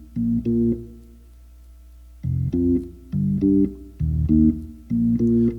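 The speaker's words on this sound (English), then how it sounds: "Now, if I was only playing with my left hand by itself, it would sound like this." Organ bass line played with the left hand alone, built on octaves: short rhythmic pairs of low, punchy chords in a syncopated groove, separated by brief gaps, with no voices.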